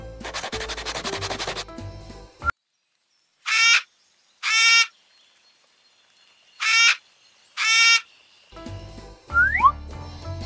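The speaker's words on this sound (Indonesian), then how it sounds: "8 burung kakak tua berkicau." Parrots chirp in four distinct bursts, evenly spaced and loud against near silence, with other noise before and after.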